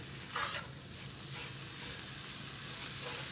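Egg roll in a bowl sizzles steadily in a hot pan as it is stirred, with a soft scrape or two early on over a constant frying hiss.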